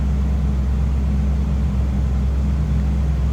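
A 1979 Pontiac Trans Am engine idles steadily with a deep, even low rumble, close by and continuous, with no voices.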